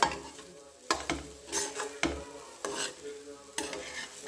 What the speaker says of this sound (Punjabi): ਮੈਂ 15 ਮਿੰਟ ਦੇ ਕਰੀਬ ਹੋਰ ਭੁੰਨ ਲਿਆ ਔਲਿਆਂ ਨੂੰ